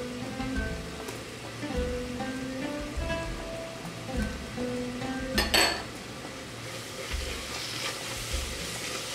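Tomato paste sizzles and fries in a pan for chicken madghut while a utensil stirs and scrapes through it, with steady crackling under repeated clanks against the metal.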